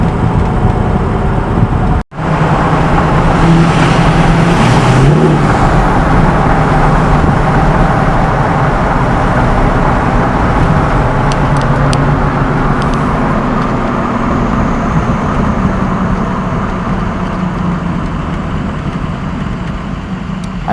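A truck with a 6.0 Powerstroke diesel engine drives along in a steady, loud, continuous drone of engine and road noise, broken by one brief dropout near the start.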